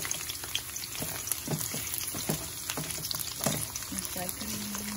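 Baby corn and green beans frying for veg jalfrezi, a steady crackling sizzle with scattered pops and light stirring scrapes, close and fairly quiet, with faint voice sounds mixed in.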